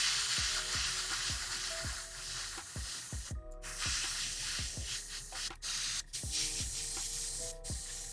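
An airbrush sprays in a steady, soft hiss during miniature painting, with faint clicks and small taps breaking through the spray.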